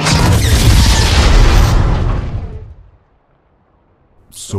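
A loud booming explosion effect in a Transformers animated miniseries, a dense roaring blast that rumbles for about two seconds and decays into near silence.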